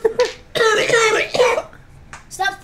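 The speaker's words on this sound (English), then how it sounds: "Cough, cough, that's bronchitis." Several harsh coughs burst out close and loud in quick bursts, mixed with throat clearing, then a short pause before another cough near the end.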